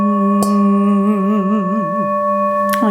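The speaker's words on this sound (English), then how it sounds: "Lower on the bowl, we can hear the lower tones." A Tibetan singing bowl rings low after being struck with a mallet near its lower part, a sustained humming tone with wavering, beating overtones and a fresh strike near the end, close and steady with no talk.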